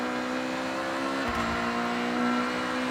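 A 2008 Honda Civic Type R engine in Forza Horizon drones steadily at high revs, with one brief dip partway through as it shifts gear before pulling on again, loud and close.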